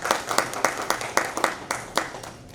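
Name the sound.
audience applause at a business summit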